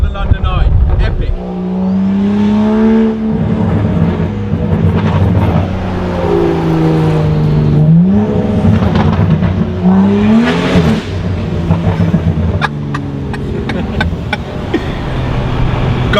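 Straight-piped 440 horsepower BMW M135i on air suspension by the London Eye at night, its engine droning loudly and rising and falling through several revs, with people talking over it throughout.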